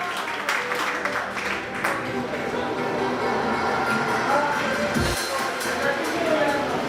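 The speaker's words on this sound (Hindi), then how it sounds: "उनका भी हौसला अफजाई तालियों से भरपूर तरीके से होनी चाहिए।" Applause from an audience at a clerks' bar association oath-taking ceremony in Kamalia, a broad steady clapping texture lasting throughout, mixed with crowd noise.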